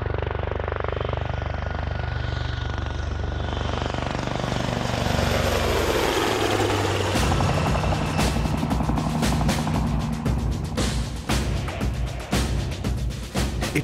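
A propeller aircraft drones steadily in flight, heard from inside the cabin as a constant loud engine hum with rhythmic clicking and rattling building up in the later part.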